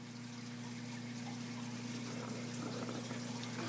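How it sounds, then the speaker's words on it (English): Water pours and splashes steadily into an aquarium sump once the return pump is shut off, a continuous close trickling wash over a constant low electrical hum. "we're going to turn the return pump off and we're going to see the sump fill up"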